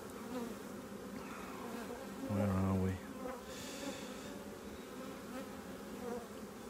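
Honey bees from a colony in an open hive buzzing steadily nearby, a soft continuous drone with a louder swell as bees pass close, no speech.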